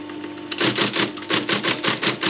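An Olympia SG 3 typewriter types a rapid, even run of about a dozen crisp key strikes after a brief quiet start, close and clear, the machine sounding fairly soft and smooth.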